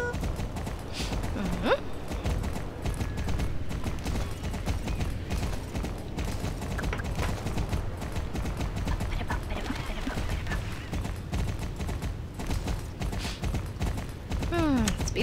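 Horse hooves clip-clop at a steady walking rhythm in the video game Star Stable Online, with mechanical creaks, bright chimes and other game effects layered over them and continuing throughout.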